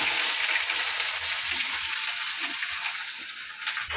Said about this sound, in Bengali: তো এদিকে আমি পেঁয়াজ কুচিটা দিয়ে দেব।